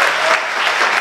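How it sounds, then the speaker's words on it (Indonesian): A church congregation claps for God during an online Sunday worship service, a dense, steady burst of applause filling the whole second with no voices standing out. "Beri tepuk tangan yang luar biasa"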